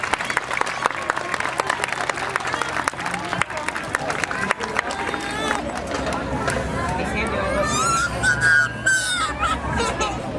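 Crowd applause at an outdoor police canine demonstration during a Night Out community event, a burst of scattered clapping that thins out, with people talking and background chatter throughout.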